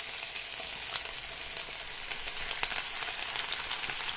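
Chili cooks over peppers in a pan with a soft, steady sizzle, fairly quiet and close, broken by small crackles and pops and no talk.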